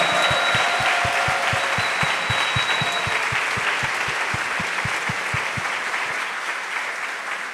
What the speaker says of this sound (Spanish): Ese aplauso para la Virgencita de Chiquinquirá.